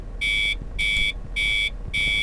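An alarm clock buzzes in a visual novel game, four evenly spaced, loud, harsh electronic buzzes with short silent gaps between them.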